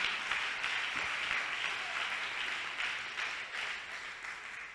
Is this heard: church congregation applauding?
yes